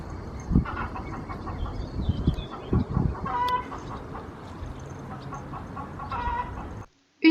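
Farmyard hens cluck and squawk near the microphone in scattered bursts, with a higher call or two rising above the rustling background before the sound cuts off at the end.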